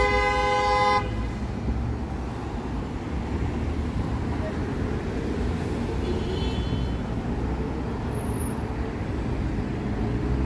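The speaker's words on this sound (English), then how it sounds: "we had our first honk of the stream" A car horn blares in one sustained honk near the start, then steady traffic and wet roadway noise continue underneath, on Jarvis Street in Toronto on a hot, humid evening.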